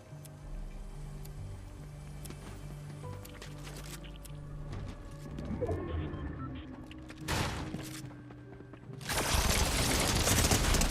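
Video game shotgun and dual SMG gunfire, scattered sharp bursts and rapid shots at moderate level, ending in a loud dense volley.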